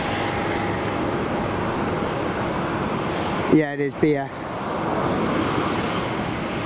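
A jet airliner at Tenerife South Airport rumbles in a steady broad roar, with someone briefly speaking over it midway before the engine noise carries on alone.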